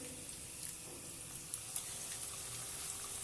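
Small potato kebabs fry in hot oil with a soft, steady sizzle and faint bubbling, quiet and close, with occasional light pops and no talk.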